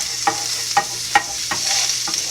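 Garlic and ginger sizzle steadily in oil and butter in a frying pan, with a soft continuous hiss broken by several sharp stirring scrapes at regular intervals.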